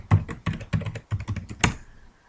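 Keys clatter on a computer keyboard while logging into a test server over PuTTY, about six quick bursts of close typing with brief pauses between them, trailing off into quiet at the end.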